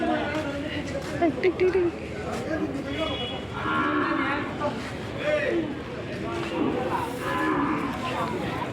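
A calf moos repeatedly at a busy cattle market, several drawn-out calls close by, with other cattle, crowd chatter and people talking all around.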